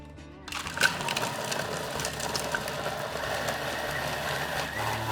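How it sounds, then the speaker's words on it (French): A blender runs at full speed, whirring tomatoes, lemon juice and olive oil into a fine ceviche base, starting abruptly and holding a loud, steady grinding drone. "j'ai laissé mixer notre préparation à fond pendant bien 10 minutes"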